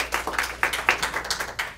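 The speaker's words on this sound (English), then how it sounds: "You don't have to clap, it's a press conference." A small audience claps briefly at a press conference, a handful of sparse, separate hand claps spread through under two seconds, close and moderately loud with no voices.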